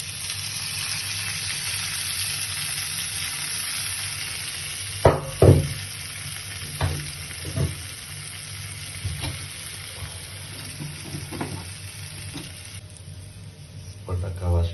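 Milk poured into a hot pan of creamy garlic prawn curry, bringing a steady background sizzle and frying hiss with a few short splashy bursts near the middle, moderately close.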